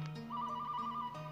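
A telephone rings inside a moving car, a steady electronic ringtone that holds for about a second, faint and at a distance.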